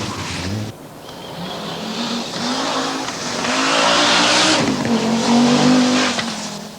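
Rally car racing on a stage at Rally Portugal 1983, engine revving hard and close, easing off briefly then climbing to a sustained high-pitched howl with tyre noise.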